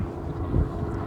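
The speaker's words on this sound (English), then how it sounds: "Chopper, not exactly what I need." A helicopter flies overhead outdoors, a steady low rumbling drone that swells slightly in the middle of a brief stretch, with no talking.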